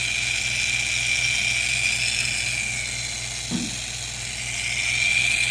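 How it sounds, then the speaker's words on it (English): A Piranha slot car motor's gears whir steadily with a high whine, running smooth and continuous in a modified Fly Ferrari 250 GTO chassis from an Olifer sidewinder kit, alone with no talk. "The noise you hear is strictly from the gears."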